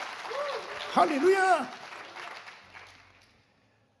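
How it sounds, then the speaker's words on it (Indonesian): A church congregation at an Indonesian anniversary service applauds under a loud exclaiming voice, the clapping fading away toward silence. "Berikan tepuk tangan sekali lagi buat Tuhan"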